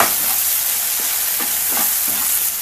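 Tomato pieces and a small lump of tamarind sautéing with salt in a pan on the stove, a steady broadband sizzle with a few soft spatula scrapes spaced through it, close and fairly loud, no voices.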